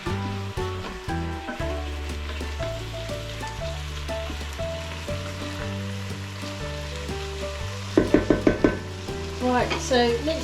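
Chicken sears on the sear/sauté setting of a Ninja Foodi 11-in-1 multicooker, a steady sizzle running under background music, with a louder burst of crackling near the end.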